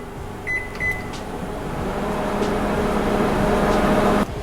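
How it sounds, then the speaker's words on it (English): Microwave oven heating chicken for a few minutes, a steady low electric hum with a couple of beeps near the start, running close and evenly before cutting off abruptly near the end. "we're gonna just throw the chicken in the microwave"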